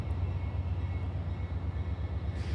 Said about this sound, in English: It looks like this train is slowly starting to move again.